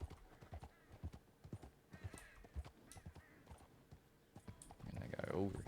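A horse's hooves clip-clop steadily in the Red Dead video game, a quiet, even trotting rhythm under faint background sound. A louder whinny-like call rises near the end.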